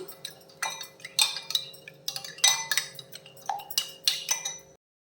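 A spoon clinks and scrapes against a bowl in a quick, uneven rhythm while curd and salt are stirred into rice for a beetroot curd rice, bright close metallic taps, then silence at the end.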